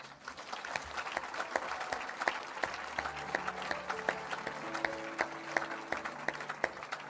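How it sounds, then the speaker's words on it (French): A church congregation at a revival meeting in Evry claps along, steady rhythmic applause from a crowd with faint musical tones underneath, moderately distant and soft. "Venez, on acclame le Seigneur."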